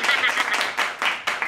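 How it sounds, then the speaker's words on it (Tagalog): Dense, steady audience clapping fills the short stretch, with a few brief dips in intensity as the applause rolls on. "Palakpakan naman natin. Palakpak."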